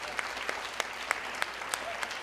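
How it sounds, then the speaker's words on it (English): Sparse, scattered clapping from a TEDx university audience, a handful of distinct hand claps spread over a couple of seconds beneath a quiet room tone. "Can we have a round of applause?"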